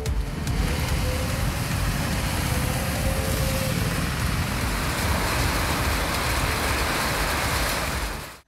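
Heavy downpour during Cyclone Montha in Tamil Nadu, rainwater streaming along roads; a dense, loud, unbroken roar of rain and running water that holds steady throughout with no voices.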